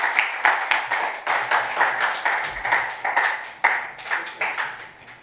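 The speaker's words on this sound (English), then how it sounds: "Could I ask you all again just to repeat that round of applause?" A crowd at a Bob Marley One Love Football media launch applauds Clive Busy with steady, fairly close clapping that lasts the full five seconds, with small rises and dips in loudness and no voices over it.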